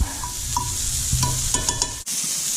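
Onions caramelizing in butter with salt and pepper on a flat top, a steady close sizzle with a few stirring scrapes, then a sudden cut near the end.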